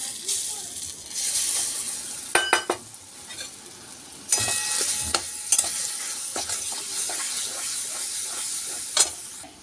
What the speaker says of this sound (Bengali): হিংটা ভাজা হয়ে আসলে এর মধ্যে আগে থেকে পেস্ট করে রাখা ডালটা দিয়ে দেবো